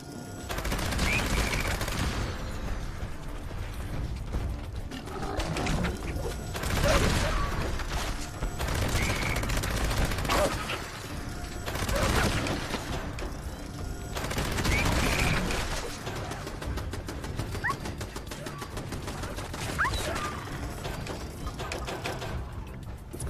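Plasma pepper shaker weapon with a hex mod firing in Fallout 76, long bursts of dense rapid fire separated by brief pauses, loud and close throughout.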